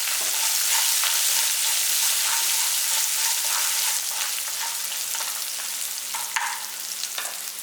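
Spinach and onion sautéing in a pan for a keerai kadaisal, with a continuous close sizzle and occasional stirring scrapes and clinks, steady throughout with no talking.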